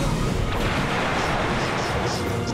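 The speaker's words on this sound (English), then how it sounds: "Trusty handy dandy lava gun. God, the lava gun sucks." Lava gun blasting away in Ratchet & Clank: Up Your Arsenal, a loud, continuous roaring rumble of rapid fire and bursts, with a voice talking over part of it.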